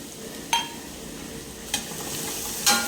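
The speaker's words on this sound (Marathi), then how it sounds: "कांदा तर छान परतून घेऊया तेलामध्ये." Chopped onion sautéing in oil in a pan, a soft continuous sizzle broken by three sharp scrapes of a stirring spoon spaced about a second apart.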